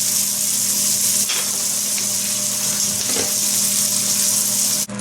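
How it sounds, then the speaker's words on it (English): A roux cooks in bacon grease in a pan, sizzling and frying loudly and without a break at close range, with a few faint stirring touches and no talking. "In the bacon grease, I've got the bacon grease going in there, and we're going to make a little roux."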